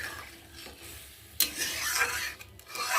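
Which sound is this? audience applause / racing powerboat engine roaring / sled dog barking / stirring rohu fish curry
stirring rohu fish curry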